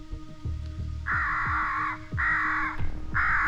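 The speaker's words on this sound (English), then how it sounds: "Let's do some crow distress." An electronic crow call set up in a cornfield beside woods plays crow distress calls, a string of loud, harsh caws in rhythmic bursts, with faint background noise between them.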